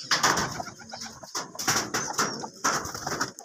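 Pigeons coo in a loft at a Trichy pigeon keeper's, soft repeated throaty calls close by over a busy, rustling background with flutters and shuffling.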